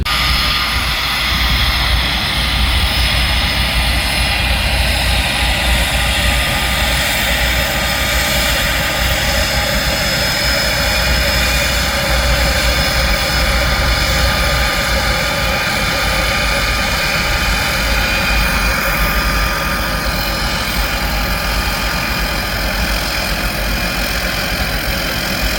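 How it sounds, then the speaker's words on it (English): A de Havilland Canada Turbo Otter seaplane touches down, a continuous loud turboprop drone holding steady and close for the whole stretch, with no talk. "There's old the otter, turbo otter. Oh, one's just touching down."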